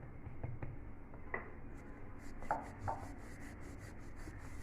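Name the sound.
rolling radish paratha dough with a rolling pin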